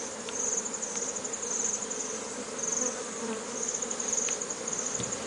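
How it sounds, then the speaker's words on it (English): Honeybees buzz continuously as a beekeeper sweeps them off a gold honeycomb, a dense steady drone with a faint high whine, close and fairly quiet, with no talking. "You sweep out the bees."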